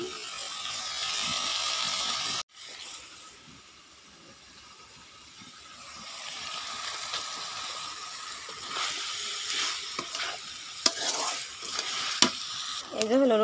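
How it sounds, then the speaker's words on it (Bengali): Taro stolons tossed into spiced masala frying in a pan, a loud sizzle that drops away after a sharp clatter, then builds back with scraping stirs and metallic knocks, no talking. "এখন আমি লতি দিয়ে দিচ্ছি।"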